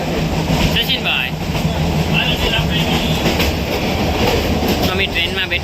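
Rumble and rhythmic clickety-clack of a moving passenger train heard from inside the carriage on a rainy day, steady and loud throughout, with people talking nearby.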